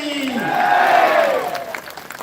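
A crowd at the Bodsara Dham Guru Darshan fair in 2023 claps and chants praise to Baba ji, a loud, sustained swell of many voices with a rising and falling chant tone over steady clapping.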